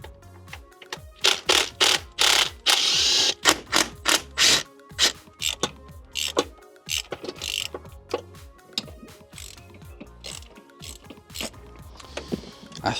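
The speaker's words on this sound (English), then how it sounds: "You have to like get your arm round with a ratchet spanner" A ratchet spanner clicks in bursts of rapid pawl ratcheting while loosening timing cover bolts on a Land Rover Discovery 4, with short pauses and shifting rhythm, close and fairly loud.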